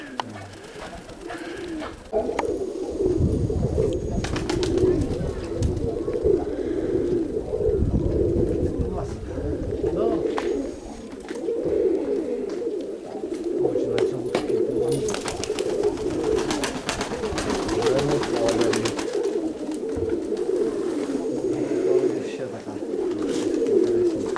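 Mykolaiv pigeons coo continuously in a low, rolling chorus close by, while people talk intermittently over the cooing.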